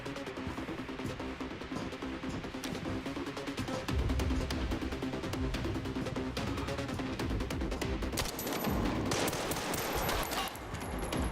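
Sustained enemy gunfire in Resident Evil Requiem rattles through a dense, noisy game soundscape, with repeated shots blending into a steady roar that swells slightly midway.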